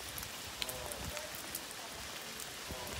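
Rain patters steadily on surfaces, a constant soft hiss with scattered drips, and faint voices murmur in the background.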